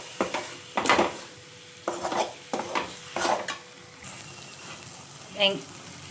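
Tomatoes sizzle softly in an oiled pan for egg curry while a utensil stirs and scrapes in several separate bursts, close by, with a brief voice near the end.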